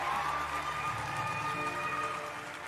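Crowd cheering and applause at a drum corps performance, a sustained wash of many voices with a bright tonal layer above, steady and fairly loud throughout, slowly fading toward the end.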